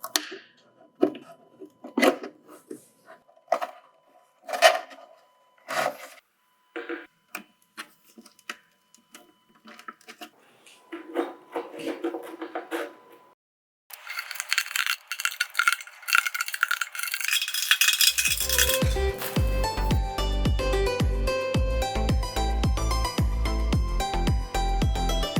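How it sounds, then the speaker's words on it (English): Metal handle worked off a wooden dresser rescued from the trash, with scattered close clicks, rattles and taps of metal on wood, followed by louder continuous noise and music. "I probably have to take out the handle."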